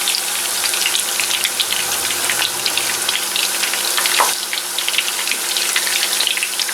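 Meatballs fry in a pan with a steady, bright sizzle and crackle, with occasional spits and pops, close and continuous with no talking.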